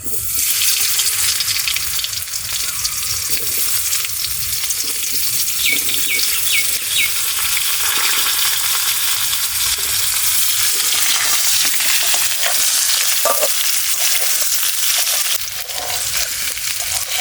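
Jackfruit and potato frying in oil, a dense, loud, continuous crackling sizzle heard up close for a long stretch, with occasional faint utensil clinks and no voices.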